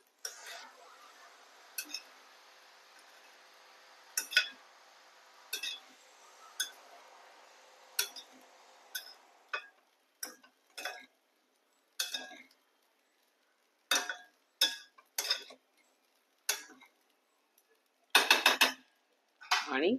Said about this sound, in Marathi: आता हे साबुदाणे जे आहेत ते प्रॉपर मिक्स करून घ्यायचे